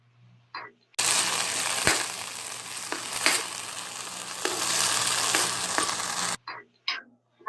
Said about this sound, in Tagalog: Then the onion. And last is the sardines. Saute it for about 3 minutes.